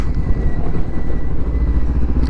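Rumbling motorcycle engines idling and revving nearby, a continuous loud low drone with no voices.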